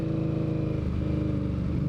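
A Triumph-style Street Cup motorcycle engine runs steadily at a fairly loud, even idle-to-cruise pitch, a continuous close rumbling throb with no voices.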